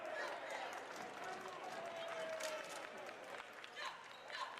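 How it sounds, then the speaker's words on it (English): A Saturday afternoon basketball crowd at a North Carolina A&T versus Campbell game jeers after a foul call, a faint, diffuse murmur with scattered claps under a commentator's talk. "A few Bronx cheers in the crowd for that one."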